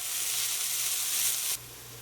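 Onions, bell pepper and jalapeños sizzle and fry in a pot as they're stirred, a steady close hiss that drops off abruptly near the end.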